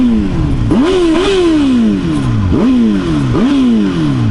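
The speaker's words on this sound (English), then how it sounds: "I love the sound of this bike, even with stock pipes" A motorcycle on stock exhaust pipes revs repeatedly, close and loud, its engine note climbing and falling in about four distinct surges over a continuous running drone.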